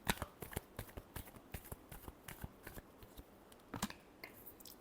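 Tarot cards riffle-shuffled close up in a quiet room, a rapid run of crisp flicking snaps and slaps with a louder burst near the end.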